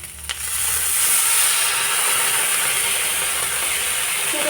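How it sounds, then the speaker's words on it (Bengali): Water poured into a hot pan of fried dried fish with beans sets off a loud, sudden hissing burst that settles into a strong, steady sizzle, close up and alone. "তো সামান্য জল দিয়ে দিচ্ছি।"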